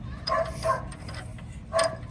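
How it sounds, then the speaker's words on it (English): A dog barks three times at a moderate distance, two quick barks followed by a pause and then a third, over low background rumble. "Sorry for the barking dog."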